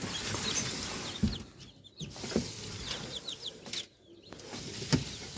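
Hejazi chickens and their chicks cluck and peep close by, with soft scattered calls, a few sharp peeps and brief rustles over quiet background hum.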